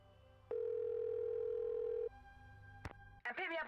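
A steady telephone dial tone from the Nancy Drew game White Wolf of Icicle Creek hums for about a second and a half, then a click sounds and a voice briefly starts.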